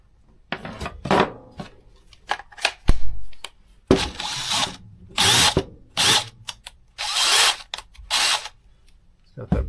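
A Craftsman 20V brushless cordless drill driver spins up in repeated short bursts, each a loud whirring whine with clicks and handling noise between triggers, while a person talks.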